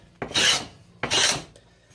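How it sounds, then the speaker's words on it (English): A hand scraper is drawn across a wood surface in two long, rasping strokes about a second apart, close and crisp, with quiet pauses between them. "Obviously all the flat surface has been scraped"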